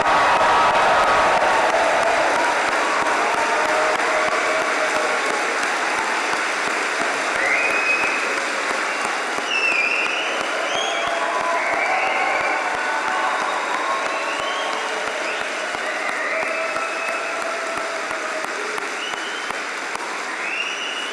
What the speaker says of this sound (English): let's have a huge round of applause and lots of applause